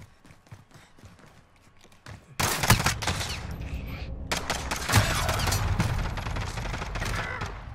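Gunfire in a video game starts after a quiet opening, a loud run of sharp shots and bursts that keeps going to the end, with faint voices in the background.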